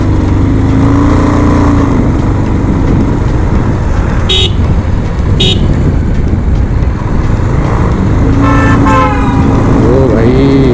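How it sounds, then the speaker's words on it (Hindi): Busy traffic on the steep Pachmarhi ghat road roars loudly throughout as engines drone, with a few short horn toots cutting through, then a cluster of honks near the end. "हॉर्न देते हुए आगे बढ़ते रहते हैं भाई"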